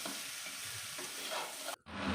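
Mixed vegetables fry and sizzle in a pan with a soft, steady hiss and faint stirring scrapes, cut off by a brief silence near the end.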